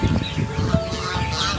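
Honking geese calling in short bursts, fairly close, with farmyard noise around them.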